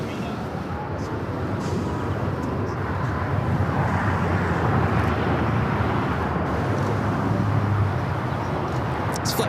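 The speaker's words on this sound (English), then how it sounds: "United Dreamliner just touching down here on 25 left." United Airlines Dreamliner touching down on runway 25 left at LAX, heard as a steady, broad jet roar with low rumble that holds throughout at a moderate distance, mixed with background airport noise.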